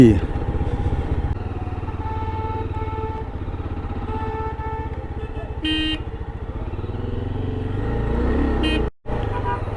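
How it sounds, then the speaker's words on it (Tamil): Busy road traffic of cars and motorcycles in Ooty, heard from close range as a steady engine drone with two brief horn beeps and a sudden momentary dropout near the end. "எதுக்கு இங்கே டிராஃபிக்கு"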